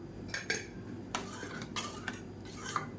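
A spoon scrapes and clinks against a pot as karuppu kavuni black rice kali is stirred, giving soft irregular metallic taps over a steady low background.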